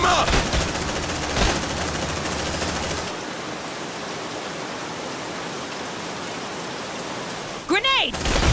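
Suppressive gunfire from Colonial Marines in the video game Aliens: Dark Descent: dense, sustained automatic fire and noise that roars continuously for about three seconds, then carries on more thinly under battle sounds, with a rising electronic whine near the end.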